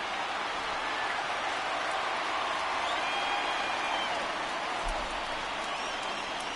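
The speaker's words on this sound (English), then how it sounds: "I don't like pumped-in crowd noise" Crowd noise pumped into a baseball stadium during an ALCS playoff game between the Boston Red Sox and Kansas City Royals, a steady wash of distant cheering and murmur that holds at an even level throughout without breaks.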